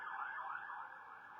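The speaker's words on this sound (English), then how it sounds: "Let's allow this ambulance sound to pass and then I'll start my speech." An ambulance siren wails steadily at an outdoor inauguration ceremony at Sankofa Square, a continuous, fairly faint, slightly warbling tone heard alone with no talk over it.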